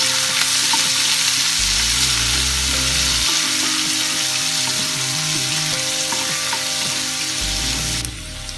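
Green chillies and onion sauté in a pan for carrot rice, making a loud, continuous close-up sizzle with a faint mechanical hum beneath it and no talking.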